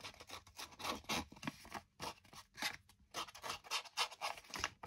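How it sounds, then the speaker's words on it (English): Scissors scrape and snip along vellum paper edges to roughen them, in a rapid, irregular series of close, dry rasping strokes heard alone. "take my scissors and roughen it a bit."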